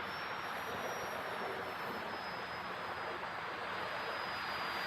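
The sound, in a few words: Freewing Pandora RC airplane flying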